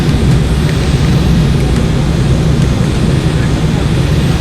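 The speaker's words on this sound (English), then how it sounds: "About to land at DFW." American Airlines jet on final approach to land at DFW, heard from inside the cabin as a loud, steady, broadband engine and airflow roar that stays constant throughout.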